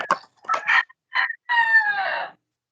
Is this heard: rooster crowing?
yes